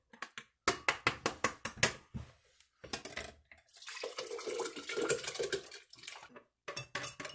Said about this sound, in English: So just pour it into the blender.